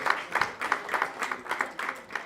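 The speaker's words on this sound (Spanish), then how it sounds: "Ese aplauso para Cristo es lo máximo." Congregation at a men's campaign night at an evangelical church claps together in a steady, quick rhythm, a moderately soft, even train of hand claps with no voices on top.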